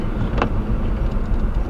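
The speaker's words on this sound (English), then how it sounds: "I'm driving to work right now." A car driving to work on a road in Des Moines, Iowa, heard from inside as a steady low rumbling road and engine noise, fairly loud and close, with one brief brighter bump.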